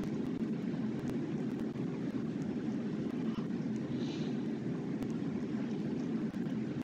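Airplane cabin engine hum: a steady, low, droning rumble that stays constant throughout, with faint scattered small clicks and no talking.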